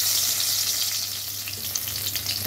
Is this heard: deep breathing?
no